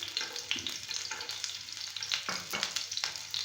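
Garlic cloves sizzle and crackle steadily in hot oil in a pan, a dense, even frying hiss with scattered pops and a couple of stirring scrapes, close up with no voices.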